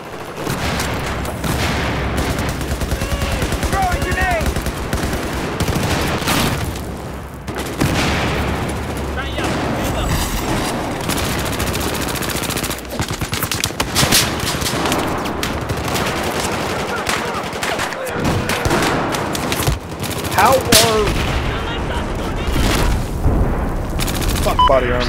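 Dense, loud machine gun fire and explosions in a Battlefield 4 Rush match on the Dawnbreaker map, sustained bursts and booms filling the whole stretch with little pause.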